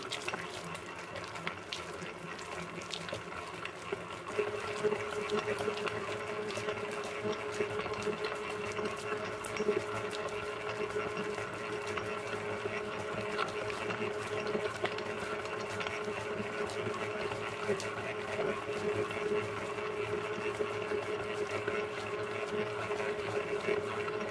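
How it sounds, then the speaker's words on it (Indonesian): An electric stand mixer kneads mocha nougat bread dough at medium speed. Its motor makes a steady, continuous mechanical hum with a faint rhythmic churn that runs unbroken throughout. "Dari situ kita mixer dengan kecepatan medium"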